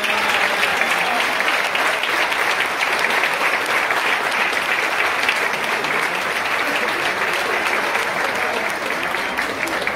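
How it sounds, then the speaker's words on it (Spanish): A crowd applauds a golfer at a summer golf championship prize-giving in Llanes, with dense, steady clapping at close range lasting throughout and no pause. "Un fuerte aplauso a Rafael Joglar San Miguel"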